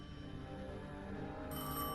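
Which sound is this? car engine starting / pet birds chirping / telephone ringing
telephone ringing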